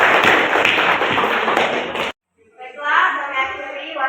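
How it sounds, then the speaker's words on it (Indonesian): Applause from a classroom audience during a teaching-practice session fills about two seconds with brisk, close clapping, then cuts off abruptly. After a short silence a voice speaks. "Dan berikan aplaus yang keras"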